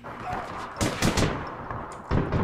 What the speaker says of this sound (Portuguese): Que eu tô escutando tiroteio